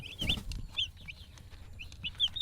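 Broiler chicks cheep in quick, high-pitched peeps, several short calls scattered over a quiet background.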